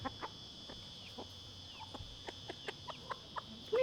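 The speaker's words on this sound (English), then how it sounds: "We have chickens." Backyard chickens, several hens and a small chick, give scattered short clucks and peeps at a steady pace, moderately near over a constant high electrical hum, with no one speaking.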